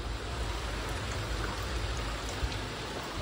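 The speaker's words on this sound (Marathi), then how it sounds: "त्याच्यात पाऊस एवढा पडतोय प्रमाणाच्या बाहेर." Steady heavy rain pours down outdoors during a Ganpati immersion, a dense even hiss of falling water that stays constant throughout with no voices.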